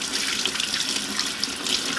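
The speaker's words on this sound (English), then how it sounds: "And now we're just going to rinse it off with warm water." Warm tap water runs steadily into a sink, splashing over a brass item being rinsed, a close, even hiss with no talk.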